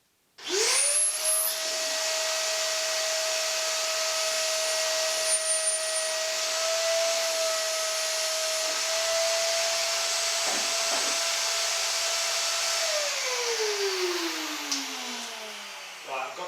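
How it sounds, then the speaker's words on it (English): A bandsaw whines up to a steady high pitch alongside a loud droning dust extractor, running continuously before the blade tone winds down. "I'm going to have the bandsaw on as well as the dust extraction"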